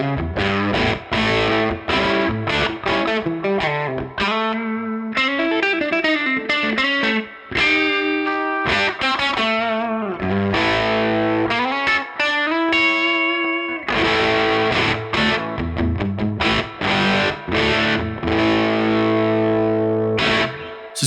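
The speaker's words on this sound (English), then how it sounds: "If we dime the EQ, we can probably get into some slightly tweed amp style sounds as well." Electric guitar through a Baroni AFK150 150-watt pedalboard amp with the EQ dimed for a tweed-style tone, loud and distorted, strummed chords and riffs played continuously for about twenty seconds with no talking.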